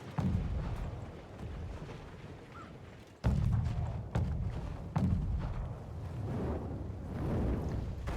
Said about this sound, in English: Treb onto that mortar on top of the wall does get taken out.